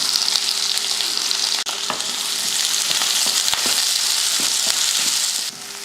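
Onion, garlic, green chili and curry leaves fry in hot oil with spluttered mustard seeds and urad dal, giving a loud, steady sizzle with light stirring scrapes throughout.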